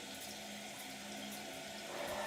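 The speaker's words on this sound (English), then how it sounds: "it's filling up with water" Water runs steadily into the tank of a newly installed American Standard Cadet 3 tall-height elongated toilet, a continuous hissing, faintly gurgling fill that holds even and fairly quiet throughout.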